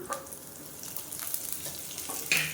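Mustard seeds and urad dal fry in hot oil, a steady close sizzle with faint crackles and a brief stirring scrape, no voices.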